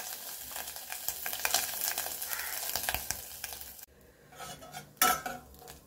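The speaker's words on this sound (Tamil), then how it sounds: "அதுலேயே நம்ம இப்போது தேங்காயை வறுத்துக்கலாம்" Coconut pieces roast in ghee in a pan for a banana payasam, with steady sizzling and scraping of a spoon against the pan, then a brief lull before a sharper clatter near the end.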